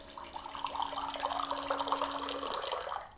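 Hot water pours from a Zojirushi CD-JWC40 micom water boiler, a steady close trickling stream over a faint electric hum that stops shortly before the pour fades out, with no talking.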